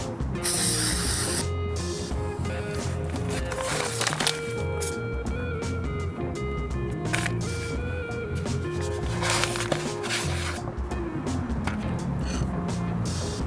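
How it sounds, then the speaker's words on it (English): Bursts of silicone lubricant spray hissing from an aerosol can repeatedly, some short and some sustained, close up, with faint background clatter between them. "we bought silicone lubricant spray from a local supermarket"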